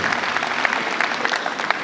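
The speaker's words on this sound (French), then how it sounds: "Mesdames et messieurs, encore une fois, sous vos applaudissements" Loud, dense audience applause for a school director general at a student talent event, many hands clapping steadily and close.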